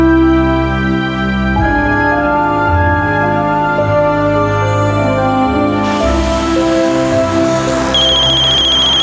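A mobile phone ringtone plays a steady melodic tune loud and close, with no voices over it.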